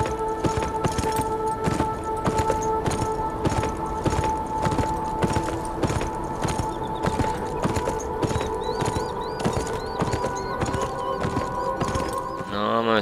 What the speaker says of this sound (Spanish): qué bueno que me traje el caballo